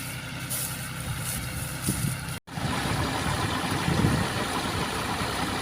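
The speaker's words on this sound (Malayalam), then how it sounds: "അപ്പോൾ നമ്മുടെ ട്രാക്ടർ പണി തുടങ്ങാനുള്ള പരിപാടിയിലാണ്" A tractor's large diesel engine idles nearby with a steady low rumble, broken by a very brief dropout before the chugging continues unchanged.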